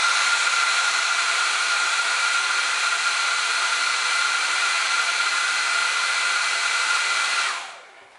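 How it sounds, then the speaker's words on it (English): A hair dryer blows steadily at close range to warm a nail foil, a loud, even rushing whoosh for several seconds before it switches off and winds down. "Warm it up with your hair dryer."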